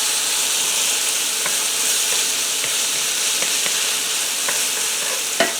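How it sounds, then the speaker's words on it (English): Garlic sizzles in a pot while a utensil stirs it, a steady broad hiss with soft scraping clicks spaced through it and a slightly louder knock near the end. "I'm just going to stir this around just for a minute to heat that garlic through"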